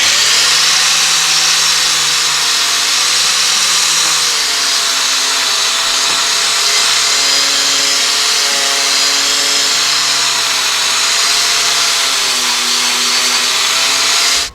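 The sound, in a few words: cupped wire wheel on angle grinder cleaning Jeep frame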